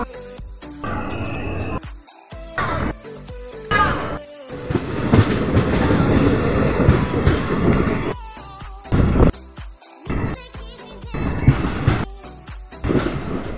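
A DEMU local passenger train pulling out of a small station on the Gonda to Bahraich line, with uneven rumbling, clanking and rising engine noise in loud bursts separated by quieter gaps.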